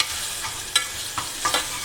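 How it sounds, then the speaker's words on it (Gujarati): Ginger garlic paste and curry leaves sizzle gently in a pan while being stirred for masala bhaat, a steady hiss punctuated by several brief scraping strokes. "આને આપણે સરખી હલાવી અને સાતળીશું જેથી આદુ છે તે નીચે ના બેસી જાય."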